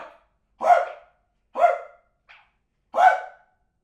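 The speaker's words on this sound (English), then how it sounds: "Bark." A dog barks loudly nearby, three full barks about a second apart with a small yip between, each sharp and clear against silence.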